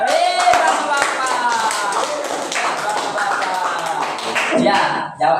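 A classroom group claps hands together during a school lesson, a brisk burst of clapping mixed with voices and chatter over the applause, loud and close.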